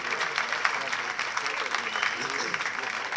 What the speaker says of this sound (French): Je vous demande d'applaudir le jury.